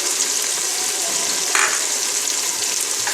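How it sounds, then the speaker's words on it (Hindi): Onion and tomato frying in a pan, a steady close sizzle with a brief louder crackle partway through, no voices. "तो हम 2 से 3 मिनट के लिए फ्राई करेंगे ताकि प्याज और टमाटर हमारे पास गल जाए"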